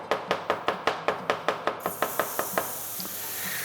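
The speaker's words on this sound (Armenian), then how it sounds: "Սխտորներ կտրապենք։" A knife chops garlic on a cutting board in a quick, even rhythm of about a dozen sharp, close knocks, which then stop, leaving a steady background hiss.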